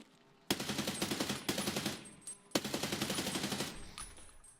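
A suppressed weapon in Escape From Tarkov fires in long, rapid bursts, a dense stuttering rattle of shots, loud and close, with a short pause between strings and a fading tail at the end.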